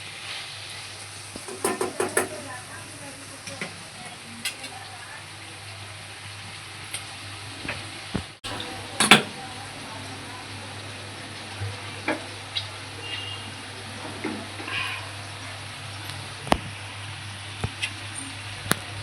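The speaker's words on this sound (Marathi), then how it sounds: "छानसं मिक्स करून घेऊया." Chopped capsicum cooking in a pan for besan bhaji, stirred with a spoon: a low, steady sizzle beneath scattered scraping and tapping strokes, with one sharper clink around the middle.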